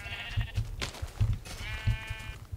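Sheep bleat several times in quick succession in Tekkit, a modded Minecraft game, the short nasal calls standing out close and clear over faint background sounds.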